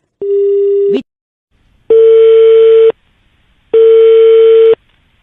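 A loud telephone tone cuts off, then two identical steady beeps repeat with even pauses, like a busy signal on the line.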